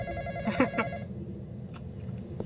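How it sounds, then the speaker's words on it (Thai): A telephone rings in a Roblox horror video game, a few faint, rapid ringing bursts early on over a steady low game drone, fading into quieter ambience. "เออใครรับโทรศัพท์วะเนี่ย"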